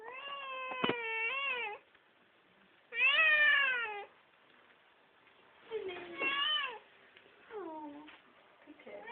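A cat meows four times in long, drawn-out wavering calls separated by pauses, close and clear against a quiet room.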